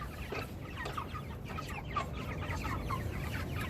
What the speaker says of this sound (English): help me move the meat chickens every day